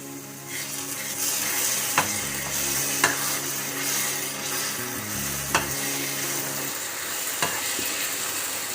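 Apple halwa with red food colour is stirred and fried in a pan, a steady soft sizzle with a low hum underneath and occasional sharp scrapes or taps of the spoon, close and with nobody talking.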